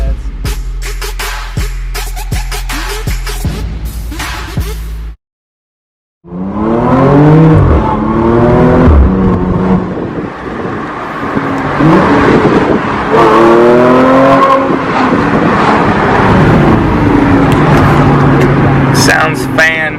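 A tuned 400hp Audi S5 makes a launch-control start, with a loud held rev, a brief cut, then a roaring run up through the gears with rising engine pitch sweeps, and speech mixed in.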